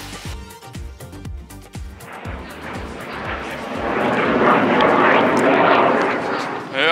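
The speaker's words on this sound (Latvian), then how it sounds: "Jā, tās ir armijas lidmašīnas" Military jet planes pass overhead on Gran Canaria, a roar that builds from a distant rumble into a loud broadband rush, with rhythmic knocking and voices talking early on.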